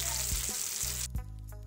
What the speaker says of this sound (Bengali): এবার আমি ওই তেলে ফোড়ন দেব গোটা জিরে, দারচিনি, লবঙ্গ,